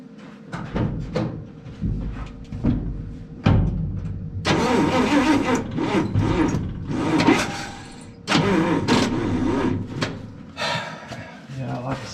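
A car engine cranks repeatedly on a nearly empty gas tank, grinding in several long bursts with short pauses, loud and close, as someone talks between attempts.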